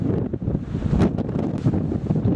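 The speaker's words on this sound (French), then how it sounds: "Donc avant la rafale de vent," A gust of wind buffets the microphone on an open mountain hike in the Jura, a loud, continuous rumbling roar that swells and churns throughout with no voices.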